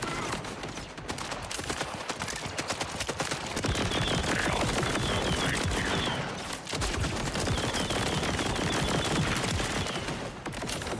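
Sustained automatic gunfire in Borderlands, rapid shots rattling almost continuously for about ten seconds with brief pauses, loud and dense throughout.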